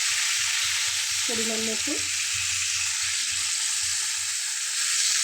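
A curry of drumsticks, potato, aubergine, lentil dumplings and tomato sizzles loudly and steadily in a pan as water goes in, under a brief spoken voice.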